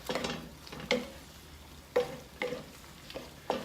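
A spoon stirs gnocchi around a pot, sweeping against the bottom, with several scraping, sloshing strokes at an uneven pace. Close and moderately loud, with no one talking.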